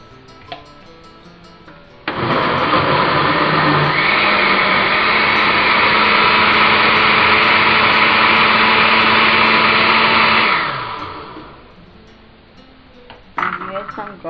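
A blender runs steadily for about eight seconds, blending onion for a homemade tomato sauce, a loud continuous motor whir with a low hum that winds down at the end; quiet room noise before and after.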